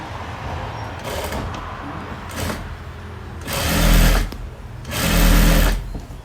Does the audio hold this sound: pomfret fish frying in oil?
no